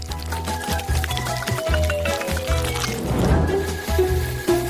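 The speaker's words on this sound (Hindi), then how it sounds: "अब इसे एक ग्लास में डालेंगे।" A drink poured into a glass in a home kitchen, a gurgling fill with rising pitch as the glass fills, heard close over faint background music.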